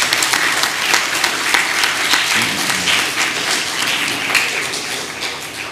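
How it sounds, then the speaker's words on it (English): A crowd gives a steady round of applause at a medal ceremony for an inter-primary school championship, dense clapping that holds level and loud for the whole stretch. "we give them a round of applause because they performed very, very well"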